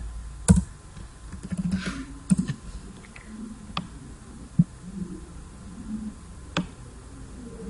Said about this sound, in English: I'll just type my years somewhere here